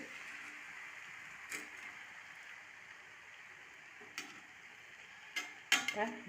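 Potato rice is stirred and mixed in a pan with a faint sizzle throughout, and a few sharp scrapes and clinks of the spoon against the pan come in bursts, the strongest near the end.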